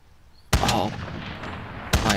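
Grau SMG fire in Call of Duty: Warzone: a loud, close burst of shots starts abruptly, its echo trails off, and a second short burst follows about a second and a half later.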